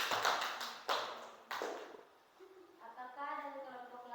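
A classroom group gives a short round of hand clapping in three quick bursts, each fading out, followed by a quieter stretch of murmuring voices and faint background chatter.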